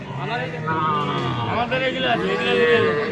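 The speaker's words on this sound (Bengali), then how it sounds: "কার বাছুর এগুলো" Calves and cattle moo loudly and close by at a busy rural cattle market, long overlapping bellows filling the scene while people talk nearby.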